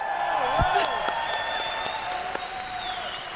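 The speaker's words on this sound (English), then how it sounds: "Yeah, guys, give it up for Russell." An esports tournament crowd applauds and cheers steadily in a large arena, a dense wash of clapping with scattered whoops, while a voice talks over it.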